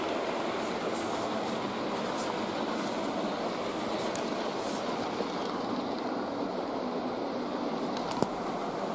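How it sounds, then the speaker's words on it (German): A steady rushing rumble of an old Trix Express model train running along its track continues without pause, with a faint click near the end. "da kommt nochmal ein Zug."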